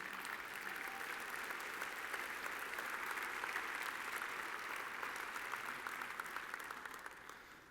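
Steady applause from an audience, sustained clapping throughout that tapers slightly at the end.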